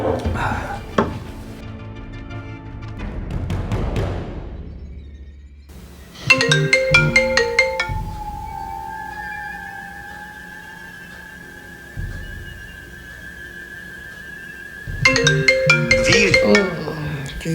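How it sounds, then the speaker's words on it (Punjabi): A phone ringtone plays a melodic electronic tune in repeated phrases, loud and close, with a sustained tone between bursts. "ਆ ਗਿਆ ਫੋਨ"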